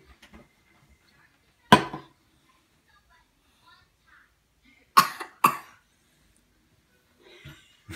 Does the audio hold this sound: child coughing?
yes